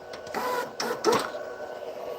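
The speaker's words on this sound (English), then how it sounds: "But this printer works." A DTF printer at home prints in a series of mechanical whirring passes with clicks and motor bursts as the print head moves, heard up close with no talk.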